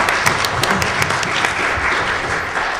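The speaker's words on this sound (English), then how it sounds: "I would like to please get a warm round of applause" An audience gives a warm round of applause for the speakers at a Martin Luther King Day event on ethno-cultural respect and Indigenous rights, with dense, steady clapping throughout.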